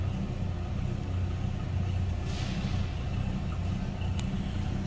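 A 1972 Dodge Charger SE with a 318 V8 and mild exhaust idles smoothly in a low, even rumble close by, with no one speaking.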